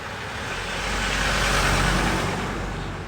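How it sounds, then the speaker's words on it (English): A car passes along a suburban street outside a live auction, a broad engine and tyre roar that swells to a peak in the middle and then eases away, with no voices over it. "Let the car go past."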